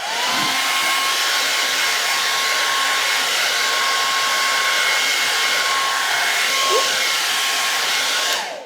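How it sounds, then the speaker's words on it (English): Hair dryer blowing steadily and loudly for several seconds to dry freshly stenciled paint on a wooden fall door hanger, a continuous close whoosh with a faint tonal whine, no talking. "I am gonna hit the blow dryer with this so that"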